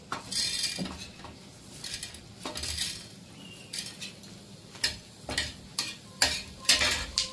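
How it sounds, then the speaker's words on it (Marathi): Dal dropped into hot oil in a pan, with close, bright sizzling and frying bursts and repeated clinks and scrapes of a spoon stirring against the pan. "आता त्याच तेलात आहे ना डाळ टाकते"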